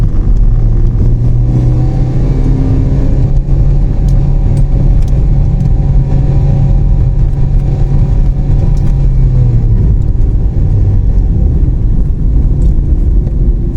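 Car climbing a steep road up to Phu Thap Boek in Phetchabun, heard from inside as a loud, continuous engine drone and low road rumble that holds steady throughout without a break.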